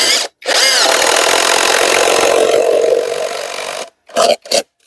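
A power drill drives screws into wood in one long loud whine, then stops and gives two short bursts at close range.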